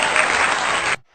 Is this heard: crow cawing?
no